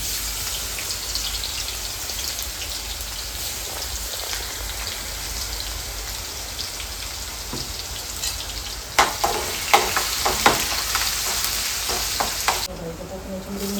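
Garlic and curry leaves frying in hot oil, a steady close crackling sizzle with a burst of sharper pops and spatters near the end.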